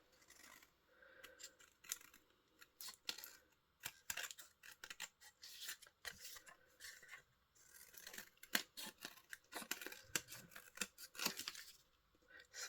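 Scissors snip repeatedly through stiff card, a close series of crisp cuts and rustles with brief pauses between bursts.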